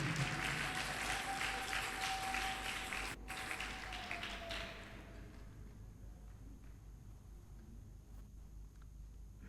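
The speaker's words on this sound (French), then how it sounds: "Acclamons fort pour le Seigneur Jésus." A church congregation applauding and cheering for Jesus, a dense wash of clapping heard from a distance that fades down after a few seconds to a quieter room with scattered taps.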